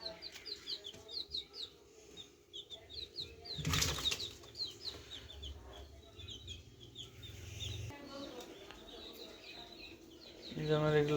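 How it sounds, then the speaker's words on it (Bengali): Native backyard chickens on a small farm, with a burst of wing flapping near the middle among scattered clucks and chirps, fairly close, under low background noise and occasional talk. "এই যে আমার এগুলো দেশি মুরগি"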